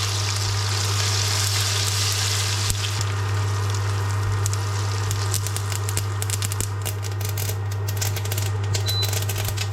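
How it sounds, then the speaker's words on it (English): Mustard and cumin seeds frying in hot butter and oil for a saag aloo curry, giving a continuous close sizzle scattered with small sharp pops and crackles that thicken toward the end. "add the mustard and cumin seeds and cook for 1 minute until they start popping"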